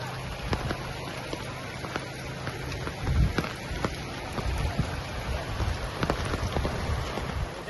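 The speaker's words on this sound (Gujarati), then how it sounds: "સિદ્ધપુરમાં જોરદાર વરસાદ પડી રહ્યો છે" Heavy rain pours down in Siddhpur near the swollen Saraswati river, a constant soft hiss of falling water scattered with sharp drop ticks and a few dull thumps.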